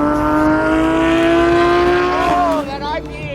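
A loud revving car exhaust at a supercar rally, a strong rising engine drone with clear harmonics, close by, then easing off and fading.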